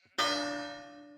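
Doorbell in the Minecraft video game: a single bright chime strikes once and rings out with a slowly fading resonant tone, heard alone.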